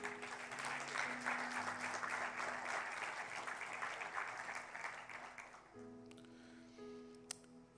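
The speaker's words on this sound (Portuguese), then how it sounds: "Você pode dar um aplauso bem forte ao Senhor?" A church congregation claps loudly together for several seconds over faint sustained keyboard tones, then the applause fades out, leaving the soft music.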